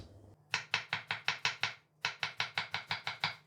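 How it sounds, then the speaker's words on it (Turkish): A knife finely chops cabbage rapidly on a board in two quick bursts of evenly spaced strokes, close and crisp, with a short pause between. "lahanalarımızı ince ince doğrayacağız"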